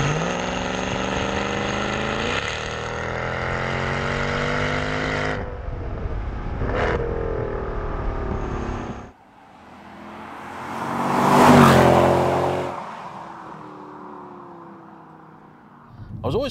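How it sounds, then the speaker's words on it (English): Mercedes C63 AMG W204 V8 with secondary decat and X-pipe exhaust, a steady loud drone that holds, drops away, then swells in a strong rev before settling, with a voice talking over parts of it. "That will make the car just a little bit louder, not silly loud, but it changes the character of the noise, makes it a lot racier, higher pitched"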